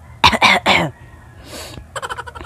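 A person gives three quick, harsh coughs up close, then a breathy pause and a short run of lighter, choppy vocal bursts.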